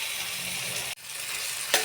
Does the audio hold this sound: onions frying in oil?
yes